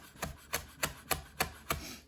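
A knife chops through macro kelp on a cutting board, six sharp, evenly paced close strokes about a third of a second apart, loud and clear with no talking.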